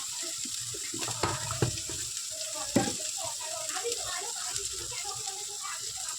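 Spice paste with chilli powder and turmeric frying for a chicken kosha, a steady soft sizzle with occasional stirring clicks, moderately faint, with someone talking over it.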